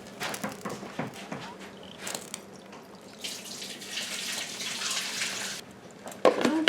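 Liquid from canning bell peppers and Vidalia onions is poured through a small scoop into a kitchen sink, a soft running splash that builds into a steady flow before a louder clatter near the end.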